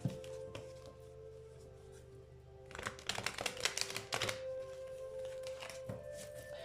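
A deck of tarot cards is cut by hand, giving a brief flurry of soft papery clicks and taps midway that stands out over faint background music.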